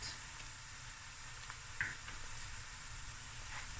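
Turmeric masala, paprika and salt sizzle and hiss quietly in a pan over medium heat, with a faint scrape of stirring and a small clink partway through.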